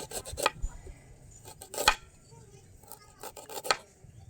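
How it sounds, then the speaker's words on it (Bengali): A knife slices kadam fruit into rounds, close crisp cutting strokes in short bursts with pauses between, each cut a sharp scraping crunch. "এবার আমি একটা চাকুর সাহায্যে ঠিক এইভাবে এভাবে কেটে কেটে নিচ্ছি রাউন্ড রাউন্ড করে"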